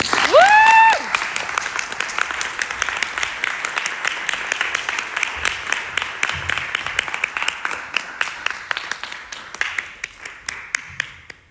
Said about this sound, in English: please help me welcome Rebecca to the stage